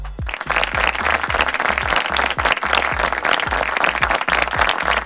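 Warm audience applause greets a grandmother and granddaughter team at a family Bible quiz semi-final, steady dense clapping with some louder individual claps and a low hum beneath, continuous and near.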